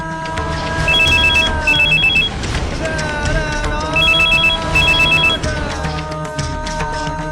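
Telephone bell ringing in repeated double bursts during a phone call in an Odia household drama scene, loud over a steady music bed, with speech around it.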